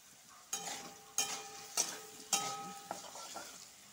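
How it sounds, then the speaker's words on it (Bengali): Potatoes seasoned with salt and turmeric frying in a pan, a soft sizzle broken by four or five sharp scrapes and knocks from stirring. "আলুটা ভালো করে ভেজে নিব।"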